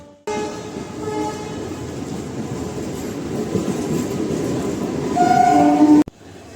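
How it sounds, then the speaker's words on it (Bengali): An ICF local train rumbles loudly and steadily at Howrah station, with clattering wheels and a sustained horn near the end before the sound cuts off abruptly. "তো দেখতে পাচ্ছেন এটা হলো আমাদের লোকাল ট্রেনটা এটা একটি আইসিএফ ট্রেন"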